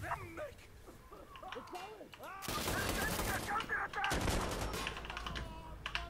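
Gunfire in Insurgency Sandstorm bursts in as a loud, rapid volley of shots after a stretch of muffled voices and whining, continuing in dense bursts with a brief pause before resuming.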